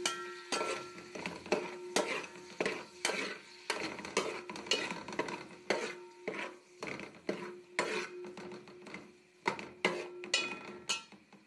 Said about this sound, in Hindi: इसके बाद इसके अंदर हम शिमला मिर्चें भी ऐड कर देंगे और मिक्स करेंगे